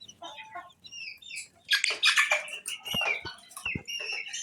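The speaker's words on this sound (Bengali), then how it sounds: "অরিজিনাল পিওর দেশি মুরগি।" Native desi chickens cluck and call nearby, a cluster of overlapping squawks and chirpy clucks swelling in the middle, with a few sharp knocks and softer bird chatter around them.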